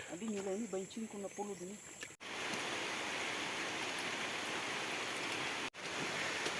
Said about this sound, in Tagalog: Basa, hulos kami. Malakas yung ulan.